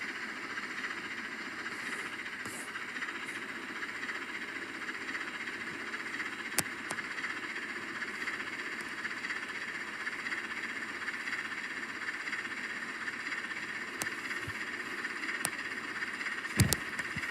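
A steady hiss and low rumble of a steam locomotive idling nearby on the Wiscasset, Maine-area tourist railway, with a few faint clicks and a sharp metallic clank near the end.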